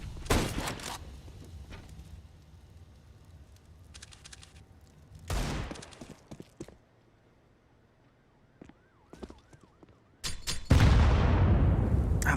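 A grenade explodes in a competitive Counter-Strike match, a heavy, loud blast near the end that follows scattered sharp gunfire cracks and quieter stretches of game ambience and footsteps, with no voices.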